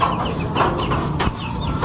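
Several chickens cluck close by, a busy overlapping chorus of short clucks and murmurs against a low background hum.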